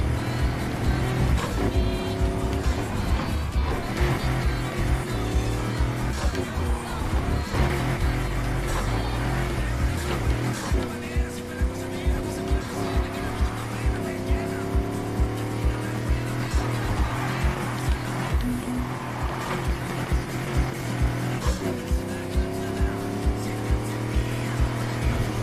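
A Ford Mustang drives with a continuous loud engine roar and shifting revs, broken by rhythmic thumps and tire noise, with no talking.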